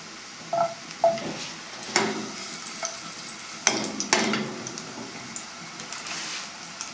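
Garlic clove halves and ginger pieces frying in hot oil, a steady close sizzle with a few sharper stirring clicks and scrapes scattered through it.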